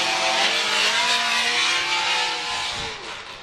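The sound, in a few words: Formula Drift cars drifting in Miami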